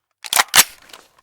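A Minecraft Modular Warfare gun being reloaded, two sharp close mechanical clicks in quick succession followed by faint rattling.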